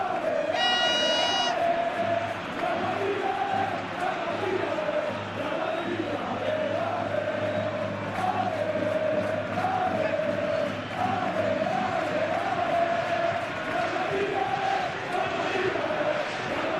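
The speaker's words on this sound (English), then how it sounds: "A capacity crowd here." A capacity stadium crowd in the football game PES at a Real Madrid versus Bayern Munich Champions League quarter-final chants and roars steadily, a dense continuous wash of rhythmic singing with a brief whistle near the start.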